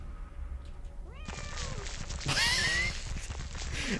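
Several cat meows from the video game Light: black cat and amnesia girl, close and fairly loud, one after another over soft ambient game sound.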